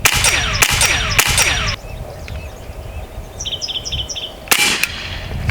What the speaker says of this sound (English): Empty from dry fire.